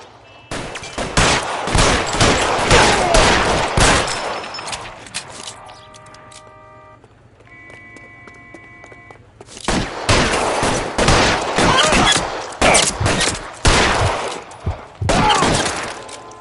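Covering gunfire during a shootout in L.A. Noire: dense bursts of rapid shots for several seconds, a quieter stretch with a buzzing tone, then heavy fire resumes loud and close until the end.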